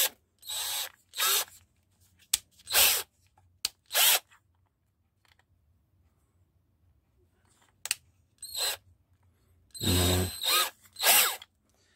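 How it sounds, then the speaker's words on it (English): A power drill boring a pilot hole through a small TV remote part, in several separate bursts of whirring with quiet pauses between them, close up and with no talking. "now you have to go and drill a hole inside there, in the middle"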